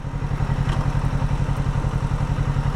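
A Kawasaki Ninja 650 idles close by, a loud, steady low engine throb with rapid even pulses throughout and no talking.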